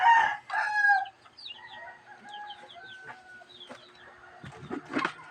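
A farmyard rooster crows loudly twice, alongside the softer clucks and chirps of backyard chickens, close by and with no talk over it.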